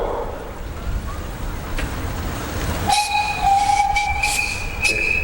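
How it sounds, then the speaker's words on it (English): A steam engine at a threshers' steam show lets out a long, steady whistle that starts partway through and holds loud and clear over the hiss and murmur of the outdoor crowd. "Mark, you got a whistle."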